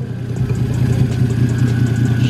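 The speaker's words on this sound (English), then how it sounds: "She's idling beautifully." A 2JZ-swapped Nissan Z32 engine idling steadily, a close, continuous low rumble with an even pulsing beat and no talk.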